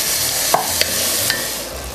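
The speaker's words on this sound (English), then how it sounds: "this is going to take about, I would say, around 10 minutes to brown our meat" Ground meat browning in a pot for lasagna soup, a loud, steady close sizzle with three short spoon scrapes or taps spaced across it.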